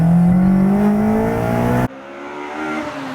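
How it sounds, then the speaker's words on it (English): A mapped Honda Civic Type R EP3 with a Solid Fab 3-inch exhaust accelerates hard and loud with a rising engine tone, then the pitch drops abruptly on a gear change under a tunnel before revving up again. "I'll go for a second gear to third gear change under the tunnel"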